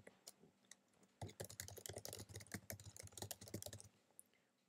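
Quick, close clacking of keys on a computer keyboard as a domain name is typed, a dense burst of keystrokes lasting a few seconds between quieter moments.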